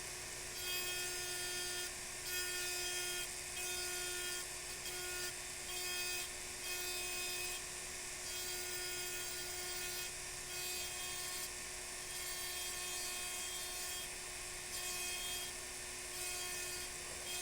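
A rotary burr engraves a crystal glass tankard with a steady, thin, high-pitched whine that holds for many seconds, dipping briefly now and then as the tool lifts off the glass.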